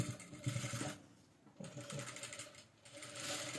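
A sewing machine stitching the collar of a princess-cut kurti, rapid close mechanical stitching in two bursts separated by a brief pause, fairly quiet.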